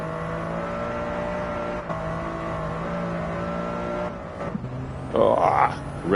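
Gran Turismo 7 car held in fourth gear during a snowy lap-time challenge, its engine droning at a steady high pitch against the rev limiter for several seconds before a shift and a brief squeal of rising revs near the end.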